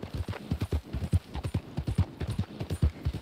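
A horse's hooves clip-clop in the Western video game Red Dead Online, in quick, steady trotting beats close by with no speech.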